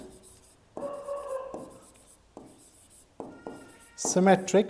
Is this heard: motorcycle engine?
no